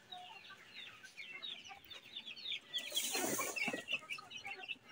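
Shamo Aseel chickens and small chicks on a rooftop farm cluck and chirp busily as grain is scattered for them, a dense, continuous chorus of overlapping calls that swells briefly in the middle.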